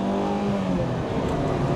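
A Ferrari 328 GTB sports car drives with a steady, close engine drone whose pitch dips slightly, loud and continuous with no talking.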